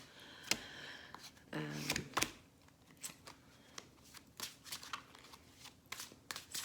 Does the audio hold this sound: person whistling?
no